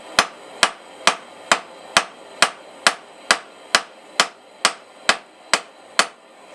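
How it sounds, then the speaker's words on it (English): Steady, evenly spaced hammer blows forging hot metal for a leaf key chain, about two sharp ringing strikes per second, repeated over a dozen times with no voices. "I actually put the hammer slightly on a little angle just to use it more of a fuller"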